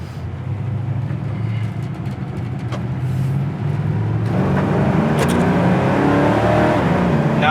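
1972 Chevy Nova small block V8 pulling away on a takeoff, a loud steady engine roar that swells as it accelerates, heard close with a few faint clicks and no talking.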